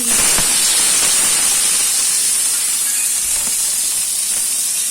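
Tomatoes go into a hot pan while cooking a lunch dish, raising a loud, steady sizzle and hiss that fills the whole five seconds, with a few small pops and crackles.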